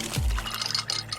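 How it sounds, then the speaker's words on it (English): Water pours from the internal dispenser of a Samsung Bespoke refrigerator's Beverage Center into its built-in pitcher, a brief, soft liquid rush with light splashing, close and fairly quiet, heard alone. "Those are the sounds of the Samsung Bespoke Refrigerator's Beverage Center with internal water dispenser and built-in pitcher"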